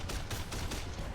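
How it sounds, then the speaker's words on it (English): Tank machine guns, a Panzer IV's bow gun and coaxial, fire in a WW2 VR strategy game, a quiet rapid rattle of bursts repeating through the brief moment, with no talking. "you got all the little machine guns firing"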